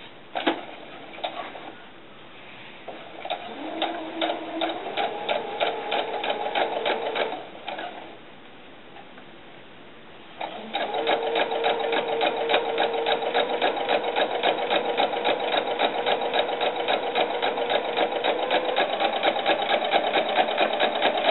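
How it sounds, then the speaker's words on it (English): A sewing machine stitches two rows of seams down the middle of a doll's sun dress sleeves, whirring in steady close runs with brief pauses before settling into a longer, louder continuous stretch. "I'm just going to do 2 seams right down the middle, two rows of stitching right down the middle"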